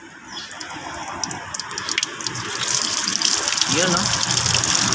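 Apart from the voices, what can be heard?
engine coolant draining from Mitsubishi Montero Sport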